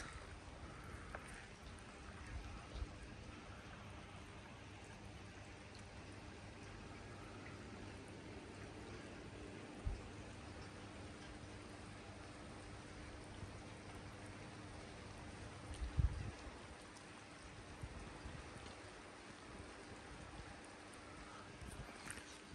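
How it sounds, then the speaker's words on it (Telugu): Light, quiet rain falls steadily at night in a village near Madanapalle, a soft continuous patter with a few faint knocks and no talking. "మీరు కూడా వినొచ్చు ఆ సైలెంట్ వాన వాయిస్"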